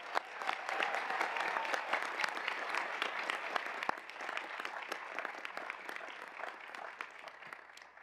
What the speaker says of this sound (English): Please join me in a South Huntington round of applause for our 7 Teachers of the Year.